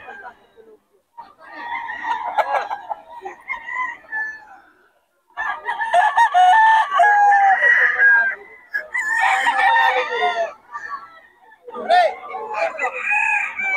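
Several roosters crow loudly one after another, long drawn-out calls with brief pauses, mixed with chickens clucking nearby.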